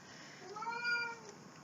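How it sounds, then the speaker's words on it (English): A single drawn-out meow from a house cat, faint and somewhat distant, rising and falling over about a second in a quiet room. "That cat is driving me nuts."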